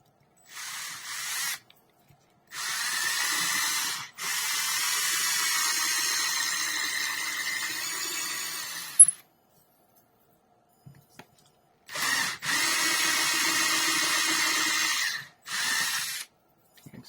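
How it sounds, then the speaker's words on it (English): A handheld drill boring a hole runs in several close, steady bursts with short stops between them, a long run in the middle and quiet pauses before the final bursts. "Drill our corresponding hole."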